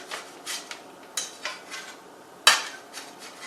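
Knife chopping cilantro on a cutting board in a home kitchen, a handful of soft, irregular taps and scrapes at close range, with one sharper knock partway through.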